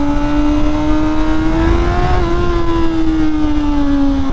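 Honda CBR650R sport bike engine revs upward under a rider, a loud buzzing tone climbing in pitch, peaking midway, then easing slightly, with no speech over it.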